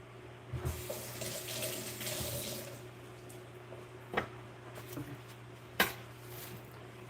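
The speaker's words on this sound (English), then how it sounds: "we give this a quick rinse" Water runs steadily from a kitchen tap while cactus paddles are rinsed, a continuous moderate splash broken by a few brief clunks and knocks near the sink.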